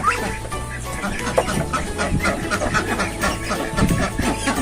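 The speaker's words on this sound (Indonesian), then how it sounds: "yang setahu saya ini seperti entok jumbo leher panjang teman-teman. Jadi ini kita coba timbang ya" A three-month-old jumbo long-necked Muscovy duck makes low, throaty clucking calls while being lifted and weighed, close and fairly loud over background noise.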